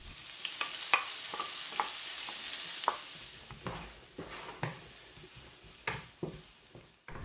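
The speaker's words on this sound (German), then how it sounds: "In diesem Fett braten wir jetzt die Zwiebeln an." Onions fry in rendered fat in a pan, giving a soft continuous sizzle broken by a string of stirring scrapes and taps that come at a steady pace, with no voices.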